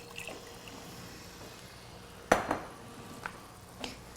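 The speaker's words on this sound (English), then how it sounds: "Give it a good stir" A spoon stirring borscht in a pot, with a sharp clang against the metal followed by a few lighter scrapes and taps under a quiet background hiss, nearby, no talking.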